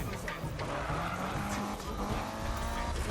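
A car drifting in the racing game Need for Speed, engine roaring with long tire squeals and skidding, loud and continuous, with a voice briefly audible underneath.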